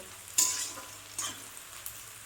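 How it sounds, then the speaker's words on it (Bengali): Onions frying in a pan while being stirred, a soft steady sizzle broken by three sharp scraping strokes of the spoon, close and clear with no voices. "পেঁয়াজটাকে আরেকবার নেড়ে নেব।"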